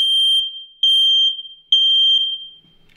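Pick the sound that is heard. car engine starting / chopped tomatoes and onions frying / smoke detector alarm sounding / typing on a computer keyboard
smoke detector alarm sounding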